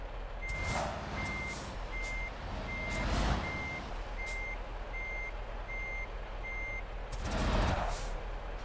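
A truck in Euro Truck Simulator 2 parks on an island while a steady reversing beeper pulses in regular intervals over a low engine rumble, with a couple of hissing air brake releases.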